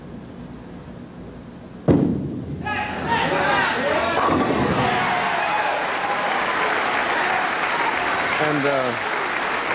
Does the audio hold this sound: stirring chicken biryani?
no